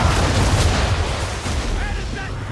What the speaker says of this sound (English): Use the swivels on him, Captain! And fire!